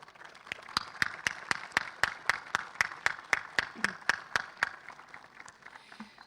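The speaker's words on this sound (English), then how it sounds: "I want to clap with you." Rhythmic unison clapping by an audience at the inauguration ceremony of a new school campus in Kosovo, about twenty evenly spaced, sharp claps in a steady beat lasting several seconds, with faint background noise between them.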